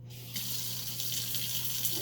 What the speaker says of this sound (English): So we're going to turn our faucet on